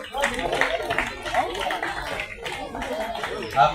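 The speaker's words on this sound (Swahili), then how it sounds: "Makofi mazuri ni kwa ajili yake" Clapping breaks out for a county representative being welcomed at a World Turtle Day festival in Mombasa, with uneven applause mixed with chatter and chuckles from the gathered audience.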